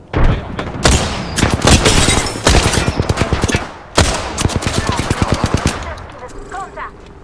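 Gunfire in Apex Legends: loud, rapid automatic bursts of shots in several long volleys, close and dominant, fading to quieter sounds at the end.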